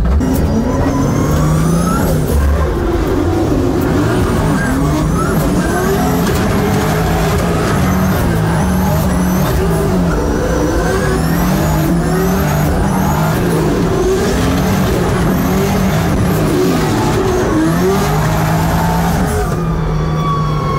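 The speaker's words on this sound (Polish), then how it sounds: "To są pierwsze pary w moim życiu tym samochodem." Car powered by a Barra engine in a tandem drift alongside another car, with loud continuous engine roar and repeated revving sweeps rising and falling for about twenty seconds, plus high tyre squeal.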